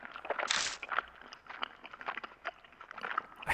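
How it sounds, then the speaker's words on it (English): Gum-chewing noise heard over a telephone line in the horror video game Death Mark, a close, moist, irregular smacking and crunching texture lasting a few seconds, no talk. "I hear a noise like someone chewing gum from the other end of the phone."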